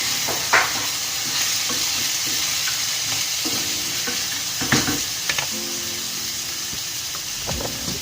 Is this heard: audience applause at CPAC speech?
no